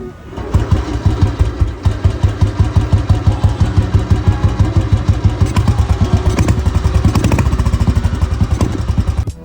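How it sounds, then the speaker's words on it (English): Steady, rapid thumping of a 1999 Royal Enfield Bullet 350 Deluxe single-cylinder engine at idle, loud and close, with an even pulsing beat throughout and no talk over it. "Every generation of the Bullet carries that signature thump"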